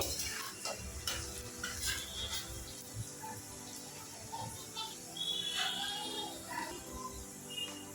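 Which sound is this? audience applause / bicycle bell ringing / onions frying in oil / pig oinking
onions frying in oil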